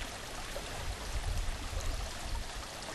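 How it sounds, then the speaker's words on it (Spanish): River water flowing steadily at the confluence of the Urbel and Arranzón rivers in open countryside, a continuous broad rushing murmur at moderate level with no talk. "Aquí confluyen el río Urbel con el Arranzón."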